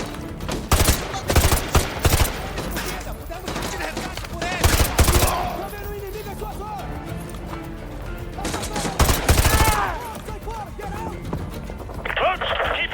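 Gunfire in Call of Duty Modern Warfare 2, with sharp automatic bursts and single shots in separate clusters, mixed with in-game voices and battlefield noise.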